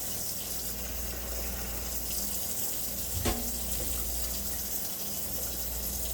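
Tap water runs steadily into a sink while rice is rinsed, a continuous rushing flow with a brief splash or clink near the middle and no talking.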